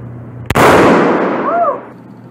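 A single sharp rifle shot from a Lee Enfield No.4 Mk 2 cracks loud and close, followed by a long decaying outdoor echo rolling away over about a second and a half.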